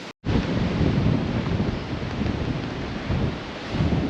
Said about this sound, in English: As you can tell, quite windy.